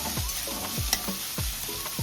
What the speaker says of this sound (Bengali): তো এখন আমাদের বাড়িতে রান্না হচ্ছে মাংস